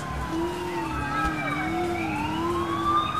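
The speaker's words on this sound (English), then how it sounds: "You turn the siren on?" A police siren in Grand Theft Auto IV wails in a continuous rising and falling tone, loud and steady over game engine rumble throughout.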